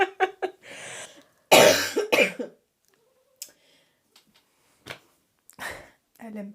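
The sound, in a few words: person coughing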